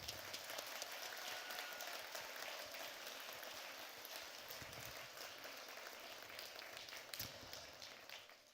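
Applause from a TEDx event audience, with dense, sustained clapping filling the hall at a fairly even level throughout and a few sharper claps standing out near the end.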